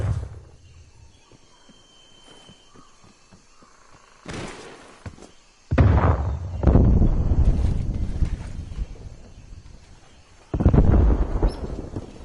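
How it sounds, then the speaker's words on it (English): A stun grenade going off in a team deathmatch video game: several heavy booming blasts with rumbling tails, separated by quieter stretches with faint ticking, fairly loud and close, no talk. "Throwing stun."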